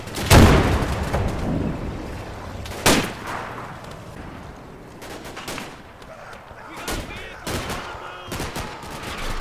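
Scoped G43 sniper rifle firing in the WWII war game Combat Mission Final Blitzkrieg. A loud sharp crack opens the clip, with further shots and bursts of gunfire spaced irregularly across a noisy battlefield background.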